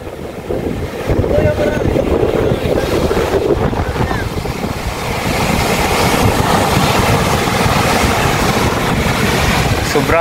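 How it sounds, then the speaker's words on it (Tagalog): Strong surf pounds Warilla Beach in Wollongong, NSW, a steady roaring wash of heavy waves with gusting wind buffeting the microphone throughout, loud and continuous, with faint voices now and then. "Sobrang lakas ng alon,"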